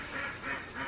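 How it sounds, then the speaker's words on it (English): Runner ducks quacking outdoors in a garden, a few drawn-out nasal calls in quick succession at moderate distance. "The ducks hear me out here."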